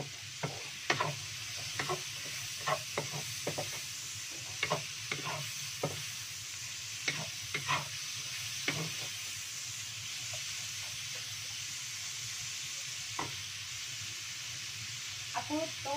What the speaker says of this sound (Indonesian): jahe bawang kalian ditumis ya nah cabai hijau cabai merahnya belakangan aja ya